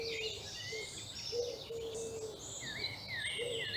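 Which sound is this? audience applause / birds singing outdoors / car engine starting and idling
birds singing outdoors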